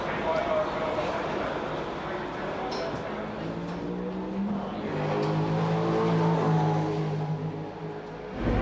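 Race cars launching at the start of the Tooheys 1000 touring car race, with Johnson's tyres spinning alongside Brock and Moffat; a sustained roar of engines and tyre noise builds steadily, overlaid by continuous commentary.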